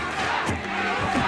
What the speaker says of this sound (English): The crowd chanting ESAM once again